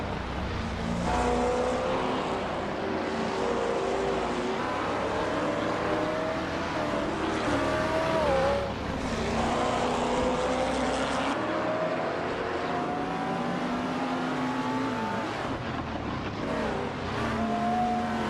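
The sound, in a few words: race car engines in a racing game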